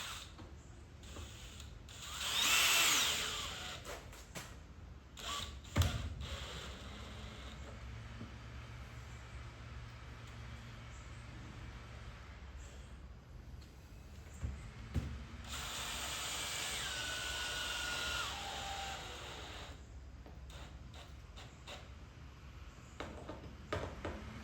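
A drill drives screws into wood in two bursts of motor whine, the second longer with a falling pitch, separated by quiet handling noises.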